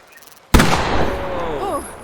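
A rifle shot in the video game The Quarry: one sudden loud blast that booms and rolls away into a long echoing tail, while a voice speaks faintly afterward.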